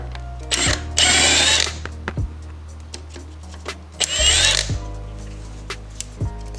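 A power tool whines in two short bursts as a bracket is unbolted from a Honda K24 engine during an alternator replacement, with scattered metallic clicks and taps between the bursts, close by.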